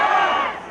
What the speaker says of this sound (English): Whitecaps cheer going on right now